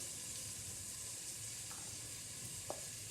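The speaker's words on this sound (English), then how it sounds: "now we're going to add our ginger and garlic paste" Ginger and garlic paste sizzling in a hot pan for a chicken curry, a steady close hiss and crackle with one faint clink near the end.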